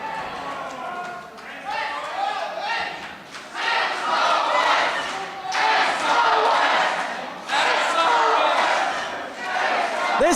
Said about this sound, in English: This crowd is on fire for the champion tonight